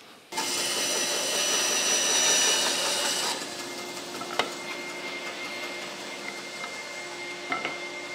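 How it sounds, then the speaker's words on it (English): A bandsaw rips through wooden stretchers for a book rack with a loud, steady whir. After a few seconds the cut ends and the machine keeps running more quietly, with a few light knocks. "I'm going to run this on the bandsaw now, nice and quick"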